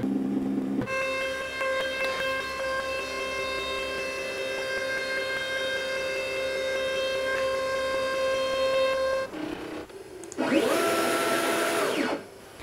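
A CNC machine's stepper motors jog the spindle across a guitar body blank toward the XY start point, giving a steady multi-tone whine for about nine seconds, a short pause, then a brief rising and falling motor sweep.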